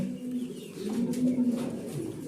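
A white Danish male pigeon coos in a steady low rolling murmur, repeated close by over faint background noise.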